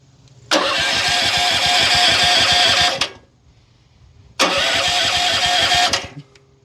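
A Kohler gas engine with electric start on a firewood processor cranks and catches twice, each burst loud and close, about two and a half seconds of starter whir and rough engine running before cutting off.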